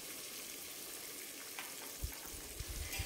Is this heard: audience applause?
no